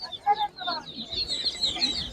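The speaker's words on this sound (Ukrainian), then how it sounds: "Отакі каченята шипуни." Young Muscovy ducklings at an outdoor animal market give repeated high, thin peeps and chirps close by, with faint background voices.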